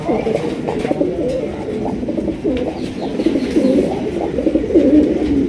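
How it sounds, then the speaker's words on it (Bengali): Grizzle racer pigeons coo in a low, steady throaty murmur, several birds overlapping continuously and close by, with faint higher chirps scattered above. "এখানে রয়েছে একজোড়া গ্রিজেল কবুতর, গ্রিজেল রেসার কবুতর দেখতেই পাচ্ছেন"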